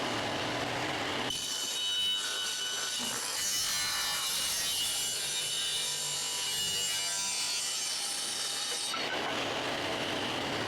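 Wood planks for a small planter box are sawn, giving a continuous loud close rasp for several seconds that stops abruptly, with quieter handling noise before and after.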